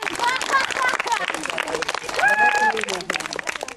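An audience applauds and cheers at a heritage day in a Hungarian cultural association hall in Csantavér. The clapping is dense and close, and voices ring out over it.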